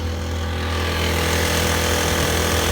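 A 35cc Honda engine driving a Sea Ghost kayak drones loud and close at a steady low throttle, a continuous buzzy rattle with no voices.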